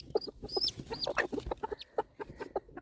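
A Silkie hen clucks close by in a string of soft, chirpy calls with short gaps between them.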